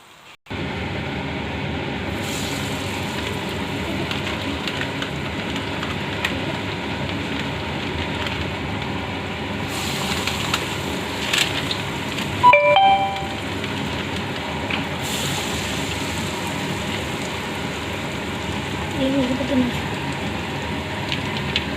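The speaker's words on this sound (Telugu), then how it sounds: "ఇప్పుడు వడలు అందులోకి వేసేద్దాం" Chana dal vadas of soaked split chickpea batter deep-fry in hot oil with a constant loud sizzling hiss, like heavy rain, over a long stretch, and a voice speaks briefly.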